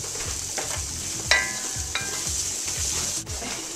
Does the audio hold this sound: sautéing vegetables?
yes